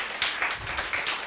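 Audience applause at the opening ceremony of the 2019 Busan Contents Universiade, a brief burst of many hands clapping steadily and moderately loud, with a few pulsing swells.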